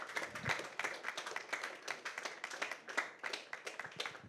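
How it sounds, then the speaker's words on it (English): A small crowd at a film teaser launch claps at close to moderate range, the individual hand claps sharp and distinct in an uneven, sparse rhythm rather than a dense roar. "A huge round of applause, everybody."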